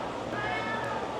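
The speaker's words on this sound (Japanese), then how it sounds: "猫" A thin street cat in Busan, South Korea meows once or twice at close range, a fairly high, drawn-out call over steady outdoor background noise.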